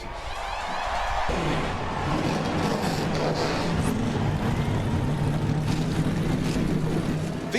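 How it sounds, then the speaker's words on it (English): NASCAR race car engines firing up and revving together in a dense, loud, continuous roar with a steady low drone, a larger field of sound swelling in after the first second. "Gentlemen, start your engines!"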